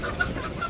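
Chickens cluck softly in a Bangladeshi village yard, a few short clucks scattered over a moment of quiet outdoor ambience.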